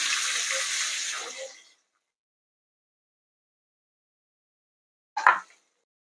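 Onion tipped into smoking-hot oil with cumin seeds for a methi bhaji, giving a loud close sizzle that fades out within two seconds, followed by silence and one short clatter.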